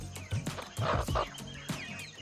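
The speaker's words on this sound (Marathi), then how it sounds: "इकडे कोंबड्या पूर्ण अशा अंड्यावर कोंबड्या बसलेल्या आहेत" Hens sitting on eggs in a poultry farm shed give soft, close, intermittent clucks and low murmurs in short bursts, quiet overall with no talk.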